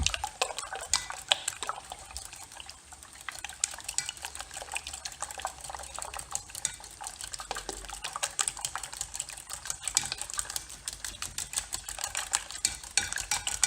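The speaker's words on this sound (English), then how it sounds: "Give your eggs a good whisk up." A mini whisk beats eggs in a bowl for a spanish omelette, making a dense, rapid, steady clatter of wire tapping against the bowl that continues without pause, close and fairly quiet.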